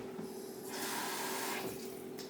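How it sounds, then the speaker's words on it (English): Tap water runs steadily into a pot of soaked, saturated ingredients for a prison-style fish and mac wrap, a close, continuous splashing rush with no voices. "So now you just put a little bit more water in there."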